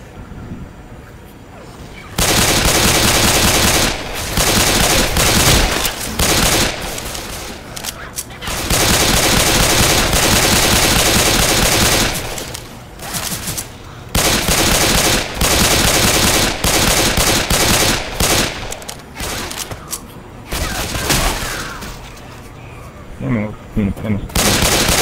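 Dense, loud automatic gunfire from Left 4 Dead 2 on the Dark Carnival campaign, in long sustained bursts with brief pauses between them, close and overwhelming.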